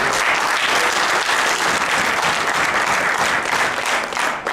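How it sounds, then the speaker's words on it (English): An audience at a city council meeting breaks into applause, a thick, sustained burst of many people clapping that holds steady and starts to thin out near the end. "Okay, folks, let's hold applause."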